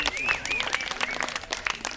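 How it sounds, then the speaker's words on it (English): Applause from a folk festival audience for the crew who set up the stage, a brief burst of clapping heard under a voice that talks over it. "Give the folks that got this all ready for us a big round of applause."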